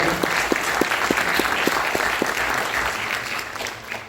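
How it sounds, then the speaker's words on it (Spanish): Audience applause at a university presentation on sector-wide collective bargaining, a dense steady patter of clapping from a crowd with a few sharp individual claps standing out, fading slightly toward the end. "José Luis Ugarte, por favor un aplauso para él."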